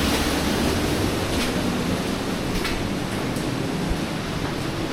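A waterfall beside a cave in Snowdonia gives off a steady, loud, close rushing roar of falling water with no pause, and faint wind buffeting passes over the microphone.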